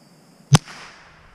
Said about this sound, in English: I shot at this squirrel three times because I got two duds